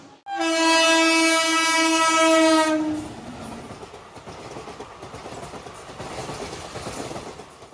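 A Bardhaman to Puri passenger train sounds a loud sustained horn blast for about three seconds, then rolls on with a rumbling, rhythmic clatter of wheels on the rails.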